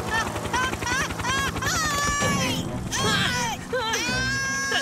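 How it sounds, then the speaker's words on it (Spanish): A cartoon helicopter arrives for an aerial rescue in an animated firefighter show, its rhythmic rotor chop running steadily under loud music, excited voices and shouts. "¡Aquí llega Tom Thomas en su helicóptero!"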